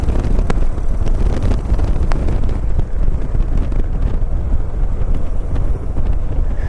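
Suzuki Boulevard S83 cruiser with a 1400cc big-displacement twin, heard while riding: a steady, loud low rumble blended with heavy wind buffeting on the microphone, continuous with no talk.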